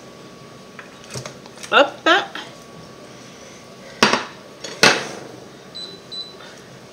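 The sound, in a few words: meat being put into the cooking pot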